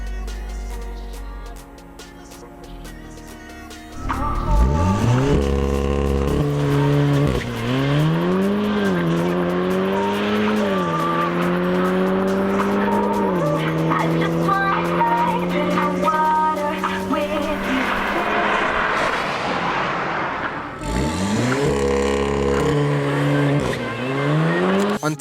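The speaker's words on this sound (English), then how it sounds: "This car has a forged motor, boosted by a TTE 470 turbocharger." A Golf 7R race car with a forged motor and TTE 470 turbocharger revs hard and accelerates through its gears at a drag event, loud and close, with rising engine tones broken by shifts and tire noise.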